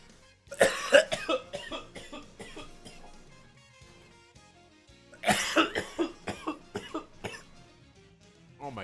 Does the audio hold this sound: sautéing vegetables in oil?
no